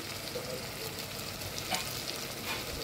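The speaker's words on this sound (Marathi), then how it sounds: "हे सगळं टाकून याला व्यवस्थित परतून घेऊया।" Biryani spice powders—coriander, cumin, biryani masala and a little red chilli—sautéed with vegetables in a pan, giving a soft, steady sizzle with faint stirring scrapes throughout.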